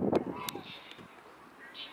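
A goose gives a short honk up close, followed by quieter scattered calls and faint background noise, with a voice speaking over part of it.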